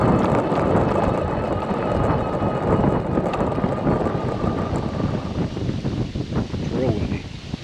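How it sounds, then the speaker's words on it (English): Strong wind roars steadily across an open Nebraska field during a deer hunt, a dense, continuous rushing close to the microphone. "It's real windy. Really windy."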